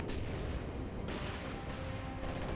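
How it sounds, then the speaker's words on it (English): A light artillery barrage in the real-time strategy game Company of Heroes 2 sounds as a dense, continuous rumble of booming shell impacts and gunfire. The roar is loud and unbroken throughout. "we've got another light artillery barrage being brought in as well"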